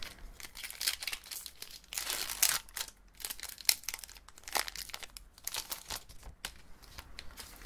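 Close, fairly quiet bursts of adhesive tape being peeled and torn while opening Pokémon booster packs, with crinkling rips repeating irregularly and no talk.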